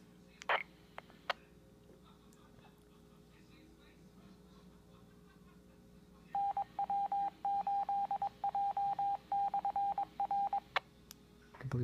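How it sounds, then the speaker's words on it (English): Tones from an amateur radio Skywarn repeater in Grand Rapids come through faintly: a few short clicks and bursts, then a run of rapid beeping tone pulses over low radio hiss, ending in a brief squelch tail. "this sounds exactly like a public safety repeater"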